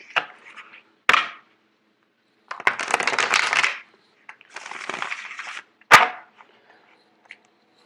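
Tarot cards are shuffled in several short riffling bursts, close up, with sharp taps and pauses of silence between them.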